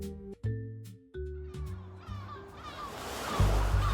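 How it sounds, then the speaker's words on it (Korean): Ocean waves crash against high cliffs on Alcatraz island, opening as a soft sloshing wash. The surf grows into a louder, rushing roar by the end, after a few sparse musical chimes at the start. "파도 소리가 위에서 들립니다."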